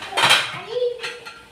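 Meat being stirred into fried onions in a pot for Chittagong-style kala bhuna: loud metallic scraping and clanking of a spoon against the pot, with a brief voice heard underneath.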